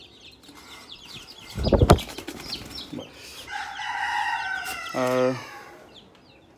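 Rooftop poultry including naked neck chickens cluck and call, with a sudden burst of flapping wings and a loud rooster crow near the end, and a brief spoken word.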